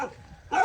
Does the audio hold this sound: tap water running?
no